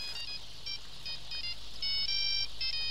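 Phone ringtone for an incoming call, a bright electronic melody of short repeated tones playing steadily and fairly faint without any talk.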